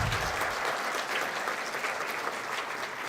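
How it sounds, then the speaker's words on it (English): Dense, sustained applause from a large audience at a university chemistry convocation ceremony, steady and loud throughout with no voices. "Please give a big round of applause again."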